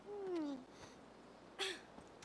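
A cat in the video game Planet of Lana gives a short, rising-then-falling meow, followed after a pause by a second brief, higher meow over a quiet background.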